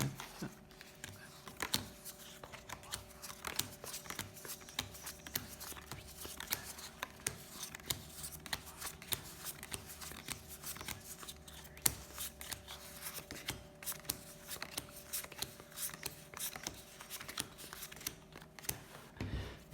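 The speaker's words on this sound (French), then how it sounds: "vous allez diviser votre jeu en 4 tas, donc 4 tas de 9 cartes" Petit Lenormand cards being dealt into four piles of nine, a soft continuous patter of card edges slapping and sliding on a table, quiet and close, with no talking.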